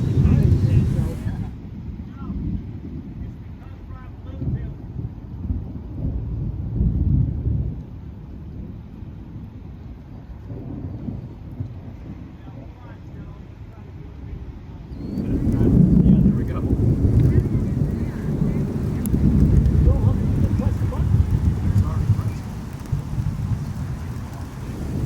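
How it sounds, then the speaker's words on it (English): A distant thunderstorm moving away rolls out long, deep rumbles of thunder over steady rain, with gusty wind buffeting the microphone and the rumbling swelling again in the second half. "This storm is incredible. It is going away from us, so the lightning is distant"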